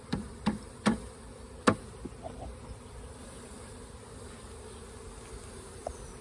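Honey bees released into a new hive give a steady, close, low buzz, punctuated early on by several sharp taps as the box is knocked to shake them out.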